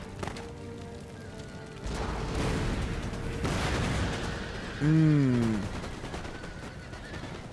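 Cannon and musket fire crackles through a Total War: Empire battle in the Sweden campaign, a dense ongoing rattle of shots with heavier booms swelling and fading, and a brief murmured voice over it.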